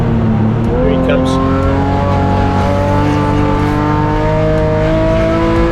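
A BMW race car in a performance parts race series circuit event roars past on track, its loud engine note steady and harmonic with shifting pitch, continuous for several seconds while commentary voices talk over it.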